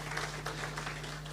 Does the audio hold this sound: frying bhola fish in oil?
no